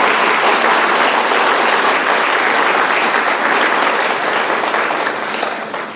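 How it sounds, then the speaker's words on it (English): An audience at a middle school spring band concert gives a sustained round of applause, thick and even clapping filling the room and tapering off slightly at the close. "Could y'all give them a round of applause?"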